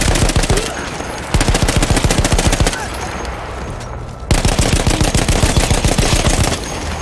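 Rapid automatic machine gun fire in the video game Battlefield 1, loud sustained bursts of evenly spaced shots separated by brief pauses, close and dominant.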